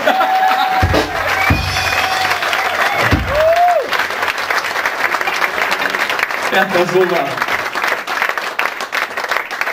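Audience applause in a room at a casual German band gathering, brief bursts of clapping and crowd noise mixed with chatter and people talking over it throughout.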